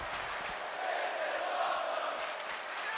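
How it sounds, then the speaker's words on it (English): In the WWE 2K25 wrestling video game, an arena crowd roars in a dense, sustained wash of cheering and shouting that swells slightly midway and holds steady, distant and reverberant, with no commentary over it. "The crowd letting it be heard what they think of this match"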